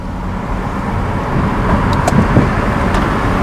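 Steady, muffled low rumble of outside road traffic heard from inside a quiet luxury car moving through peak Gurgaon traffic, a dull wash of noise without speech.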